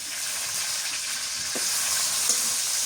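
Dried fish frying in hot oil with onion gives a steady, close hiss and sizzle, broken by a couple of soft spatters or stirring taps.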